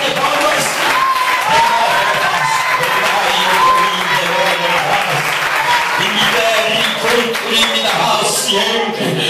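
Loud, dense applause fills a church service, many hands clapping steadily and close by for several seconds, with voices mixed into the crowd noise throughout.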